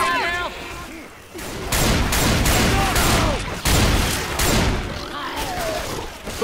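Dense bursts of gunfire from the zombie co-op shooter Left 4 Dead 2, Dead Center Christmas campaign, with loud overlapping shots and blasts filling most of the stretch and voices calling out between the volleys.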